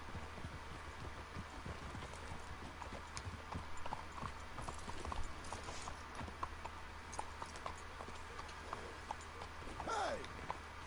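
Horses' hooves clip-clop steadily on the ground in Red Dead Redemption 2, a continuous mid-distance trotting rhythm over an outdoor ambience, with a brief whinny-like sweep near the end.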